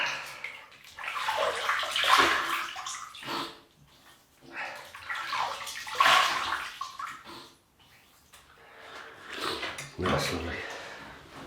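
Water splashing in cupped hands as a face is wetted before a shave, in three sloshing bursts separated by short pauses, close and moderately loud.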